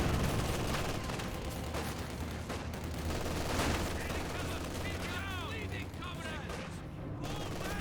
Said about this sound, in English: That's the MG42, fresh MG42 there